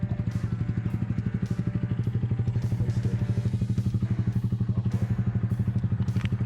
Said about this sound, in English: So Juice is letting the new guy ride the souped up Grom.